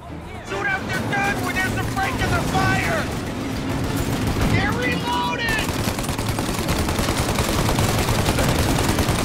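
Rapid gunfire crackles through a 1930s-style mob shootout in the video game Mafia: Definitive Edition, with dense bursts of automatic shots running under loud shouting voices throughout.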